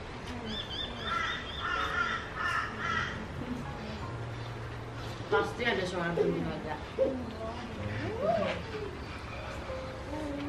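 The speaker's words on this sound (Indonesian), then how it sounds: "Pasti ada suara burung juga" A crow caws several times at a moderate distance outdoors, harsh calls heard under voices talking nearby.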